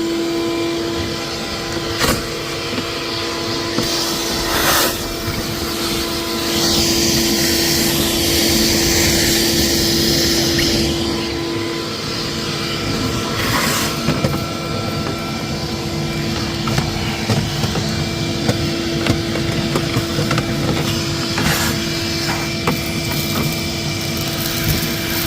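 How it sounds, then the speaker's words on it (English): A shop vacuum running while cleaning out a truck, a steady droning whine that continues throughout with occasional knocks and bumps as the nozzle moves about. "I'm gonna get a vacuum and clean the rest of that out."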